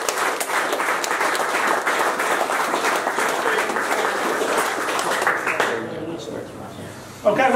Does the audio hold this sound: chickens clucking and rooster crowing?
no